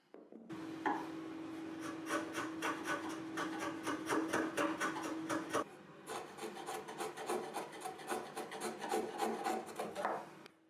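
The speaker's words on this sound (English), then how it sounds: "I'm going to use a chisel to pare down to the line." A chisel pares wood down to a marked line on a bench, giving rapid rasping strokes in a steady rhythm, close and clear, with a brief pause midway and no voices.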